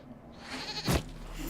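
A goat bleats once in a Dragon Age fantasy video game, a short loud cry standing out over steady game ambience and music.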